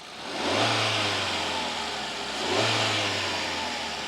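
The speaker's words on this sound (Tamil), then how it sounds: "ரவ் பண்ணி பார்ப்போம்." A Hyundai Exter's aluminium engine is revved twice in quick succession, each rev rising to a throaty mid-pitched roar and falling back toward idle, heard close and loud with no talk.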